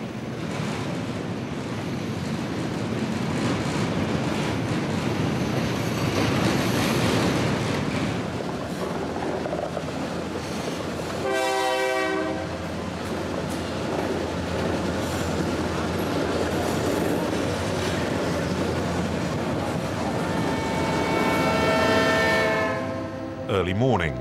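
A long, steady rumble of a freight train rolling on rails in Mexico, broadband and continuous, with a brief patch of tonal squealing midway and again near the end.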